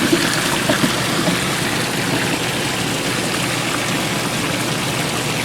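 Water drains out through ground drainage grids near a house, a steady close rushing trickle that runs unbroken and alone from start to finish.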